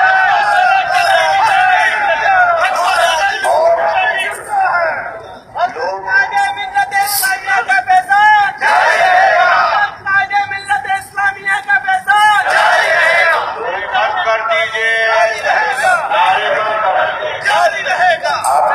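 A large crowd at a religious gathering paying tribute to Maulana Shah Ahmed Noorani chants slogans in loud, rhythmic shouted waves, with brief dips between calls and an amplified voice leading.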